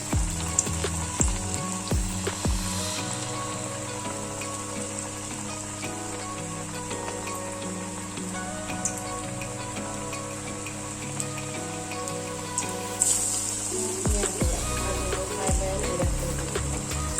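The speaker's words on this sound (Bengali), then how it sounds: "তো এক এক করে এখানে যে শেপটা করে আমরা তেলের মধ্যে ছেড়ে দিব কাবাবটা এভাবে" Shaped raw jackfruit kebabs fry in hot oil with a continuous loud bubbling sizzle, plus sharp crackles and splatters as pieces go in near the start and again later.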